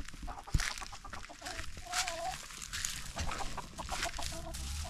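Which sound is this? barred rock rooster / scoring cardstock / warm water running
barred rock rooster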